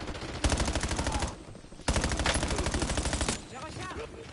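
Rapid automatic gunfire from the video game Call of Duty Warzone Black Ops 7, two loud sustained bursts separated by a brief pause, ending with a short quieter tail.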